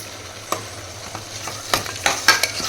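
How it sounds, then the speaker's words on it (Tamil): A spoon scrapes and clinks in a pan while curd is stirred into cooked tomato masala, irregular taps and scrapes over a faint low hum of cooking. "தயிர் ஊற்றி நல்லா கலந்து விட்டேன்"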